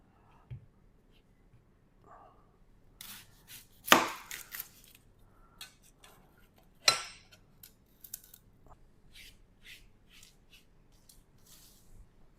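A knife cuts up an onion for the viral air fryer onion, sounding as a few sharp, crisp chops: two loud cuts stand out among lighter scattered slicing taps, close and dry, with no talk.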